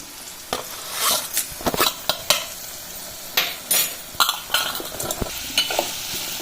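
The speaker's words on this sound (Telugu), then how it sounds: "కొంచెం సేపు నూనెలో వేగనివ్వాలి సొరకాయ ముక్కల్ని" Bottle gourd pieces frying in oil with turmeric and salt, a soft steady sizzle broken by repeated sharp stirring scrapes and clatters of a spoon against the pan, close and fairly loud.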